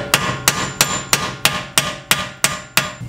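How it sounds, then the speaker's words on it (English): A hammer taps a nut threaded onto a rear suspension bolt of a 2017-2022 Hyundai Ioniq, ten sharp metallic strikes in an even, steady rhythm about three per second, close and loud, with no speech. "then get your hammer and tap it a little bit"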